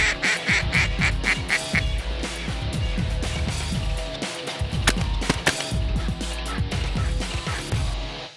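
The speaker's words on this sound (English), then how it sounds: "Look at that beautiful duck." A duck quacks repeatedly at close range in a rhythmic run of calls, layered over steady background noise and other waterfowl sounds for several seconds.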